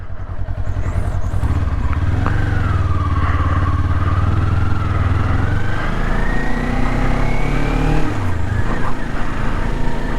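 Kawasaki Ninja 400 ridden by a beginner, engine note dropping and rising as the rider downshifts toward first gear, loud and close with a steady low rumble and a revving whine.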